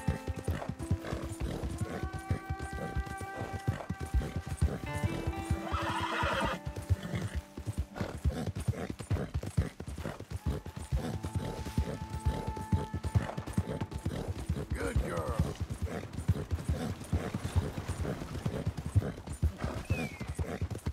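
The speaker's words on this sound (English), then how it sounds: "I can basically ride at full speed forever with this horse" A horse gallops in the Red Dead Redemption 2 video game, its hooves clip-clopping in a steady rapid rhythm throughout while neighs and whinnies rise over the hoofbeats, with game music tones underneath.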